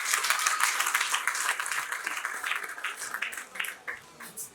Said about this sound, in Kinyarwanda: tukamuha amashyi